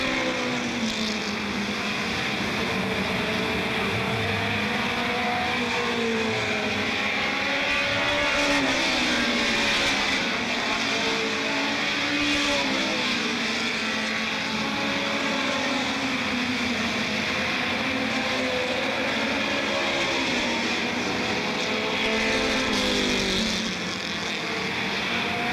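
Super late model race cars running laps on an oval track, a steady loud engine roar with rising and falling pitch as cars pass, continuous for the whole stretch with no talk.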